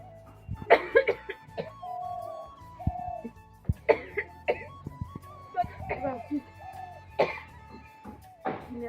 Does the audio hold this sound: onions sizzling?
no